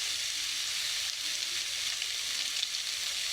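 Spices and chili powder frying in oil for a Bengali taro-leaf curry with coconut, a steady close hiss of sizzling that holds evenly throughout with no talk.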